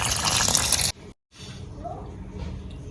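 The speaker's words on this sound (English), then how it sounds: "So go ahead and add cold water." Cold water poured from a tap into a cooking pot for eggplant sauce, a loud rushing splash that cuts off abruptly, then a quieter trickle and dripping fill.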